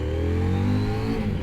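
A stock-exhaust CFMOTO IBEX 800T motorcycle engine revs loud and close, its tone rising steadily and holding high throughout with no talk over it.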